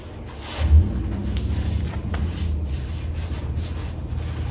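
Sandpaper scrubs paint off the dash of a 1963 Chevy in continuous close rubbing strokes, a steady mid-loud scratchy abrasion with a low thump near the start and no speech.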